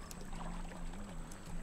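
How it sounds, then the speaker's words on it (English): Water poured into a container in the video game Raft, a soft continuous splashing trickle that stays faint and steady, with no talking. "We can fill this thing with the water."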